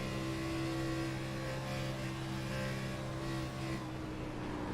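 Onboard engine of the TRJ Karting number 54 race car in an ARCA series race at Indianapolis: a steady, droning, close-up engine whine holding a fairly constant pitch under feathered throttle, fairly quiet with no talk.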